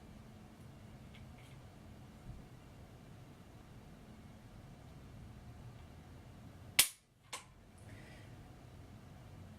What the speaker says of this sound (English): Let's do our first of 3 trigger pulls here.